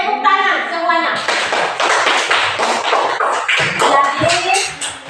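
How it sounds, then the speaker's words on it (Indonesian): A group of people clapping hands together, a burst of many sharp overlapping claps that swells and continues for several seconds, with a voice heard at the start and mingled in. "Tepuk tangan semuanya."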